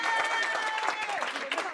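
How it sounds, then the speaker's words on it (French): Parents at a school applaud chef Monsieur Marot with steady, dense clapping throughout, under a whistle-like tone and overlapping voices close by. "je voudrais un tonnerre d'applaudissements pour Monsieur Marot"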